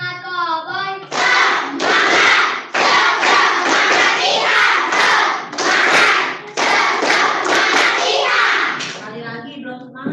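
Children in a classroom clap a rhythmic cheer, the 'tepuk semangat cowboy' chant, with bursts of loud clapping and shouted voices repeating in quick patterns, led by a child, with brief talk before and after.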